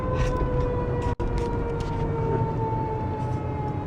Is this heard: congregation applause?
no